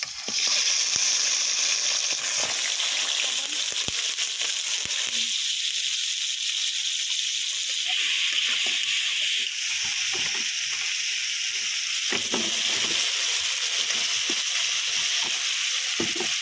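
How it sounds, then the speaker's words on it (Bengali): Shrimp and crabs fry in mustard oil in a wok, giving a loud, continuous sizzle with crackling spits and occasional clatters of stirring, all close by and without talk. "চিংড়ি মাছ আর কাঁকড়াগুলো ভেজে নেব।"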